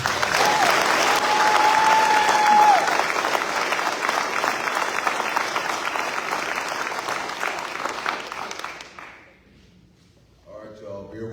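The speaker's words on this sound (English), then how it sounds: "Clap it up for K." An audience at a Navy retirement ceremony for a senior chief petty officer claps and cheers loudly. The sustained applause gradually fades out, then a voice speaks briefly.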